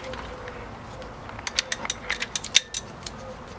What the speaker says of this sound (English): go ahead and just use a 14 socket and you'll be good to go